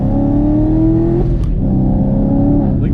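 A Chevrolet Camaro fitted with a JMS PedalMax pulls away from a stop sign, its engine droning loud and close with a steady rising pitch, a brief dip, then climbing again.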